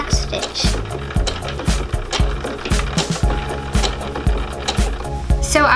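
A sewing machine back stitches at the start of a seam for a children's tunic dress, giving short bursts of rapid mechanical stitching with brief stops and restarts, close and fairly loud throughout.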